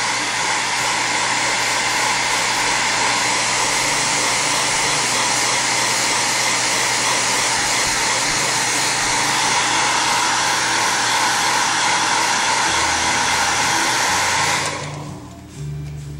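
Hair dryer blowing steadily on fresh weathering paint on a model rolling stock car, a loud continuous whoosh running nearly fifteen seconds alone before cutting off abruptly near the end.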